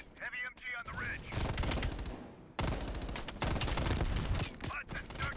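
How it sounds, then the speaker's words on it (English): Bursts of heavy machine gun fire rattle from a ridge in Call of Duty Black Ops Cold War, loud rapid volleys mixed with explosions and battle noise, with a voice speaking at the start. "Heavy MG on the ridge."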